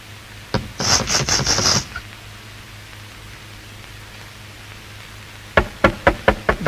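Knocking on a door in an old Hindi film: a quick cluster of raps early on, a pause with steady background hiss, then a second, louder series of about six sharp knocks, with no talk.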